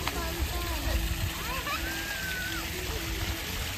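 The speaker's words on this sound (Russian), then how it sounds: "это фонтан." A fountain at the Xidir restaurant in Qusar gives a continuous splash and trickle of falling water as a steady background wash. Someone talks over it.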